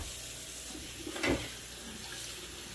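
Water runs steadily from a kitchen tap while hands are washed, a constant close hiss with a brief splash partway through and no talking.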